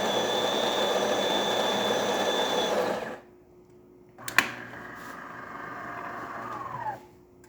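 A DeLonghi espresso machine runs during a test brew after a tune-up and descaling, giving a steady loud pump hum that cuts off, then a click and a quieter whirring that trails away.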